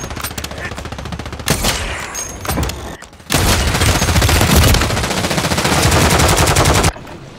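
Gunfire in a trios match of a shooter video game, with short bursts of rapid automatic fire followed by a long sustained loud stream of shots.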